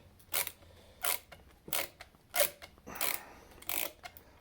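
A 3D-printed PLA bi-directional ratchet screwdriver unscrews with seven sharp ratcheting clicks, each a short bright burst spaced about half a second apart, close and alone with no talk.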